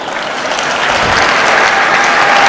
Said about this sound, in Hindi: एक बार पहले अपने लिए आप ताली बजाएं।